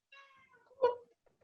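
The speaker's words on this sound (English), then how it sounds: "Oh yeah, I can hear the cat." A pet cat meows indoors in one short drawn-out call that swells to a louder peak near its end, fairly close, with a faint soft sound trailing after.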